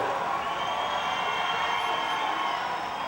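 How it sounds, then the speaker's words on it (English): A roller derby crowd in Baltimore cheers in a continuous, rising roar, with shouts and whoops layered through the dense wash of noise. "The crowd here in Baltimore is getting louder than ever"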